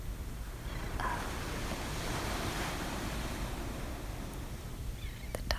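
Ocean waves wash continuously onto the seashore at sunrise, a broad steady roar of surf with gentle swells and a hint of wind, with no voices.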